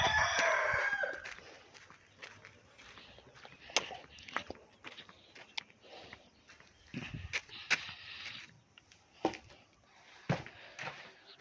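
Farmyard chickens with chicks and a black hen: a loud crow-like call opens, followed by scattered clucks, shuffling footsteps and a faint voice.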